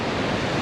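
Sea waves breaking on the beach at Druridge Bay during surf fishing, a steady, loud, broadband wash of surf with no pauses and no voices.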